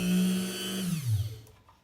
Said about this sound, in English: I'm going to turn my drill on, and I'm going to bring my drill down to drill.